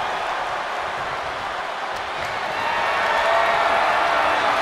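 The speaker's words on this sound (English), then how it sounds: "Listen to this crowd." A large arena crowd roars in the WWE 2K24 wrestling video game during a Team Mankind vs Team Undertaker match. The steady wash of cheering and applause builds slightly louder toward the end.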